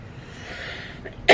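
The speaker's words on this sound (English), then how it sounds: "Every time I start a reading, I start coughing." A single short, sharp cough right at the end, close and loud after a faint, quiet stretch, with no talking.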